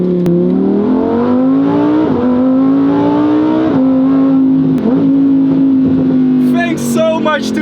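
A Lamborghini Huracán Performante's engine roars loudly and close, a sustained high-revving drone whose pitch climbs and dips with gear changes, ending with a brief voice over the noise.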